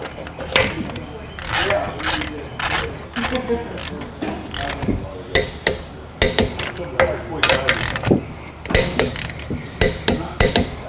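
A torque wrench tightening the wheel nuts on a Hyundai Elantra to 80 foot-pounds during a front brake service, with loud repeated metallic ratchet clicks in bursts and pauses between them, close up.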